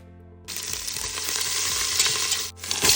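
Mustard seeds and cumin hit hot oil in a pan and burst into a loud, steady crackling sizzle with popping. The sizzle cuts out briefly, then resumes close up.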